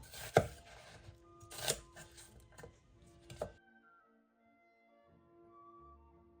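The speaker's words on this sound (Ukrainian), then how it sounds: "Цибулю нарізаємо так само, як і картоплю, дольками на 6 штучок." A knife chops an onion into wedges on a board, three or four distinct close cuts spaced about a second apart, then near silence.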